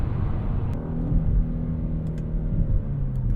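A 2025 Genesis G80 Sport Prestige accelerates with a smooth, rising engine rumble and steady road whir, heard close from inside the car with no talking.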